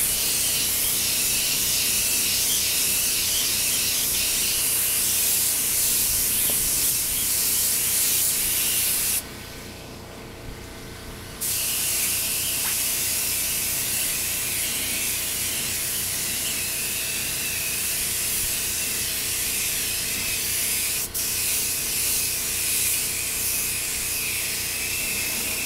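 A spray gun lays coats of paint on Honda NS250R motorcycle parts, giving a loud, steady, close hiss that runs almost unbroken, with one brief dip near the middle.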